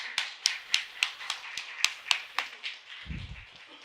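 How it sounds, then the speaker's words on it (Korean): A church congregation claps hands together in a sparse, uneven series of sharp claps, fairly close, trailing off before a low thump near the end. "박수 치려면 다 함께 열심히 쳐요."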